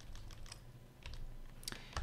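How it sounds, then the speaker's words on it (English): A few sharp clicks on a computer keyboard during Photoshop editing, ending with a press of the Enter key, close and distinct over quiet room noise, no talking. "And then press enter on my keyboard, saves that transformation."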